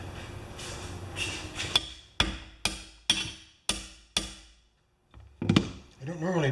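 A hammer strikes a John Deere STX38 mower deck part clamped in a vise, landing about six sharp, ringing metallic blows at a steady rhythm, close by, followed by someone talking.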